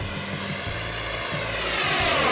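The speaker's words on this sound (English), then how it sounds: "Coming back around full throttle." FMS FA-18F Super Hornet model jet with a 70mm electric ducted fan, flying past at full throttle as a steady high whine that swells gradually, no voices.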